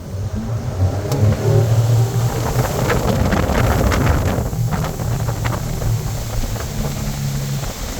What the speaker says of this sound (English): this boat's extremely quick to get up on top of the water